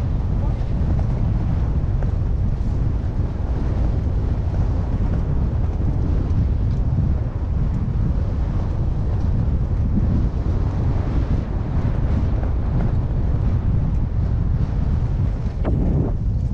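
Wind roars and buffets across the microphone during a group road bike ride at a bike festival in Berești, Galați. The low rumble is loud and constant throughout, with voices partly buried beneath it.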